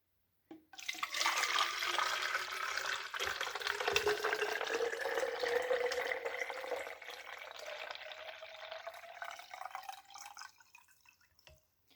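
Water pours steadily into a container while a liter is measured, a close splashing gush that starts abruptly, runs for about ten seconds with a rising pitch as it fills, then tapers off with a few drips.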